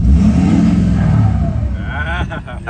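A deleted 6.7 diesel truck engine revs loud and close, a steady low roar building with a rising whine as the turbo kicks back in, then dips near the end.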